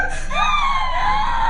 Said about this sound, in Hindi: आप सुन सकते हैं कि लड़की दो आवाजों में चिल्ला रही है।